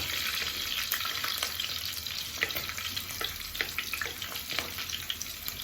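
Slit green chilies fry in hot oil in a pan with a busy, crackling sizzle. Sharp pops and spatters come close and loud as they are stirred.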